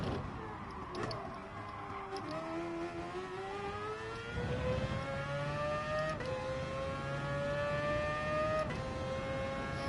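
A Gran Turismo Sport race car engine revs and climbs through the gears, a steady rising whine broken by quick shift drops, moderately loud with faint ticking underneath.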